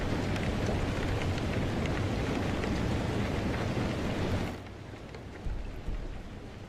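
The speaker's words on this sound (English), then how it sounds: "This rain is crazy loud." Heavy, dense video game rain roars steadily for several seconds, then abruptly drops to a much quieter patter with a few soft thumps.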